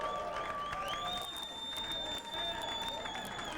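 Fans cheer and applaud after a long rally at a racquetball national championship doubles match, a broad crowd roar with clapping and some whistles, heard from a distance at a moderate level.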